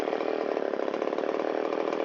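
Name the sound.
Shindaiwa 360 chainsaw engine revving up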